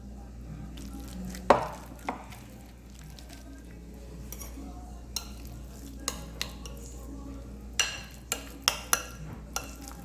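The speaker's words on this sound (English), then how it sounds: "I'm going to keep on mashing and making them real nice and creamy" Cooked potatoes being mashed with butter in a pot, scattered soft thumps and sharp metal clinks against the pot, with quiet gaps between and a low background hum.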